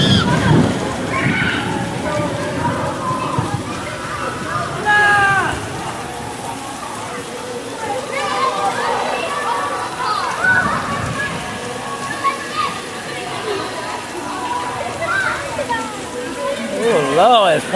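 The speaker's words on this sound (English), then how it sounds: "Boy, it's pouring down, boy." Heavy rain pours down outdoors with a constant wet hiss and splashing, while several family members, including children, talk over it close by.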